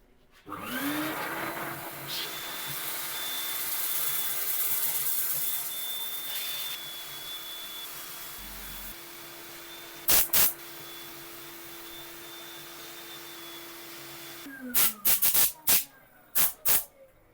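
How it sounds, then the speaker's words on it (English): A sequoia wood piece spinning on a lathe while being sanded gives a steady whining hiss and motor hum for several seconds. Scattered loud knocks follow after it quiets. "I'm going to set up for sanding."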